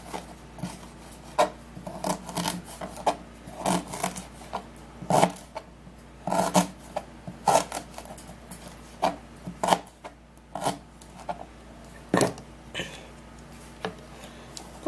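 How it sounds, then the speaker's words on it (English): Fresh ginger is sliced on a cutting board for a home arthritis remedy, with irregular knife chops and taps striking wood, close and sharp, some grouped in quick runs and others spaced apart. "And for the ginger, I have already prepared one, and now I'm just gonna cut it."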